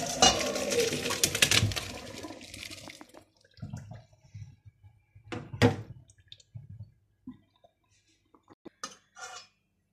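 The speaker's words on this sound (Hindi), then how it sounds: "अब हम इनका पानी निकाल लेंगे।" Water is poured off freshly cooked rice for a sweet pineapple zarda: a few seconds of rushing, splashing drainage, then scattered drips and light clinks of a pot.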